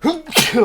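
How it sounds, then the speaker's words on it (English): A single close, loud sneeze from one person, abrupt and explosive, with a short voiced exclamation right alongside it. "I am sneezing like a motherfucker"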